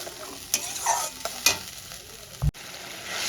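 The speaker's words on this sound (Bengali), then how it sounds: "খুব ভালো করে কষিয়ে নেব, টমেটো আর আদা কাঁচা গন্ধটা চলে যাওয়া পর্যন্ত" Tomato and ginger paste is stir-fried in a pan for a potato and pointed gourd curry, with sharp spatula clacks and scrapes sounding at irregular moments over a soft background sizzle.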